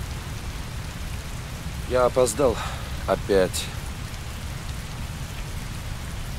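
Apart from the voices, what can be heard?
heavy rain falling, from the video game Heavy Rain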